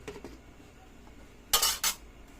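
A metal lid clatters onto a cooking pot holding a sardine and vegetable dish, two sharp bright clanks in quick succession after a few faint taps, close and with no talk.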